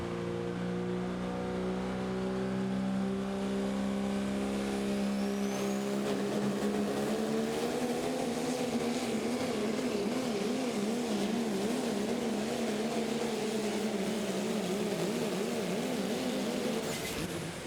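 A Ford diesel pickup in a pro stock diesel truck pulling competition at Terre Haute, Indiana: a steady, loud engine drone with rising and wavering pitch as it pulls down the track, heard from a distance and continuing throughout.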